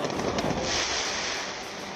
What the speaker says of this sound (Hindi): आसमान रंग बिरंगी आतिशबाजी से रोशन हो रहा था